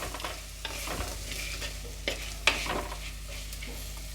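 A spoon stirs tomato masala for prawn curry in a pan, giving steady scraping and sizzling with a few sharper knocks against the metal, close and moderately loud, with no voices.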